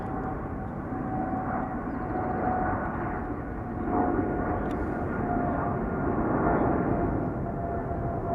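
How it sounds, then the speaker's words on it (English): An Emirates SkyCargo triple-seven freighter departs Schiphol outbound for Dubai, its jet engines a steady broadband roar holding at an even, moderately loud level throughout with no voices. "Emirates Sky Cargo flight 9916."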